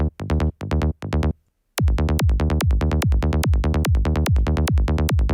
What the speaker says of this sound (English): And then you're going to have a bass sound like this.